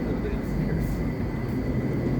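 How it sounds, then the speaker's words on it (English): A Southwest Airlines jet departs over the Las Vegas Strip, a loud, steady low roar filling the background outdoors, with a person talking over it. "Southwest Airlines is leaving."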